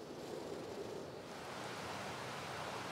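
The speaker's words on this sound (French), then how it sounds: "Entre mi-juin et début octobre, les cascades sont à leur maximum." The waterfalls of Wadi Darbat in Dhofar, Oman, give off a steady, broad rushing roar that stays even and unbroken throughout, heard from a moderate distance.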